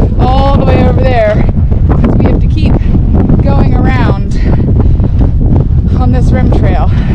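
Heavy wind buffets the microphone in a constant low roar on a sunny rim trail at Antelope Canyon, while people talk over it outdoors.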